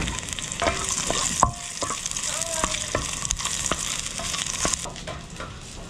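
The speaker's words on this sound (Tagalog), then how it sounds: "Ayan, sasangag na po natin yung ating kanin. Ayan, at ilagay na po natin yung bawang." Cooked rice and garlic are stir-fried in hot oil as garlic fried rice, giving a constant sizzle broken by sharp clicks and scrapes of a spatula against the pan.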